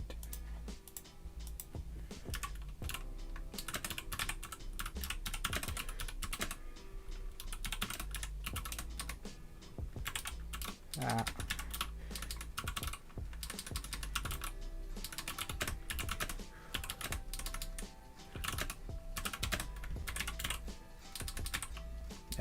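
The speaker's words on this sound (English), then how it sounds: "Everyone will now be critiquing my crap typing" Steady, fast typing on a mechanical keyboard, a dense run of close clicky keystrokes that carries on without pause, with a brief spoken word in the middle.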